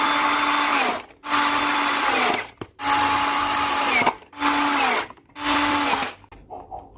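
Power drill driving screws while reassembling a jet cleaner, heard as five loud, close whirring bursts of one to two seconds each, separated by short pauses.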